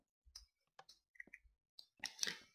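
Clicking sounds while pressing a button in Minecraft redstone, a string of short, separate clicks at close range, ending in a denser cluster, with no talk over them.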